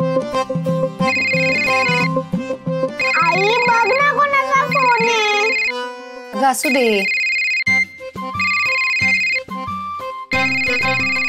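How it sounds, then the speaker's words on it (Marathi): A phone plays a melodic electronic ringtone in repeating phrases, loud and close indoors, while someone briefly speaks over it. "आई कोणाचा फोन आहे ना? अगं वाजू दे"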